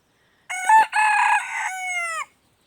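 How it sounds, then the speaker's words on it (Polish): A backyard chicken in a May garden gives a loud, close, drawn-out crowing call lasting under two seconds against an otherwise quiet background. "kureczki moje piękne"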